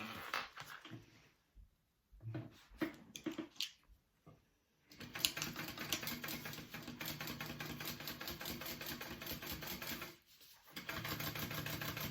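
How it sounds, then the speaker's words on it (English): Sewing machine top stitching along the side of a pleated handbag pocket, a close, steady motor whir that starts, pauses briefly, then runs continuously for several seconds with a short stop near the end, no talk. "I'm going to top stitch along the pleated pocket side"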